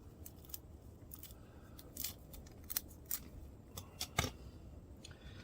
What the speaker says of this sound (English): Just going to divide it. I'm going to use my scissors.